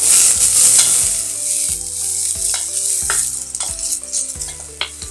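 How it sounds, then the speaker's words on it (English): Onion and green chilli frying in a pan, a loud steady sizzle with repeated stirring scrapes of a utensil across the pan, carrying on throughout with no talking. "onion, green chilli, and fry until the onion"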